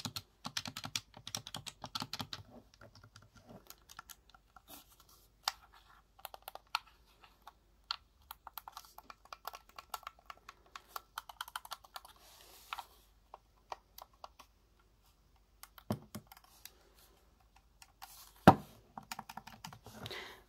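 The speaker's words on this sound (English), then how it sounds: "the buttons are very clicky, and I do quite like them" Buttons and D-pad on a standard Xbox One controller clicking in quick, irregular bursts, crisp and close, with dense presses at the start and sparser taps later.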